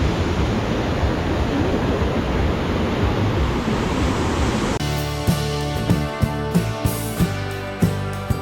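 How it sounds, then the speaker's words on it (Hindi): Fast-flowing mountain river water rushing in a Himalayan valley on a trek near Sankri, a dense steady roar that gives way midway to a different tonal, rhythmic sound with sharp clicks. "तो यहाँ पे देखिए कितना तेज पानी आ रहा है।"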